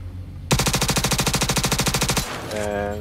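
Rapid automatic gunfire in the space game Star Citizen during a large zero-gravity PvP battle, a loud burst of about twenty evenly spaced shots lasting under two seconds, then a brief electronic chime.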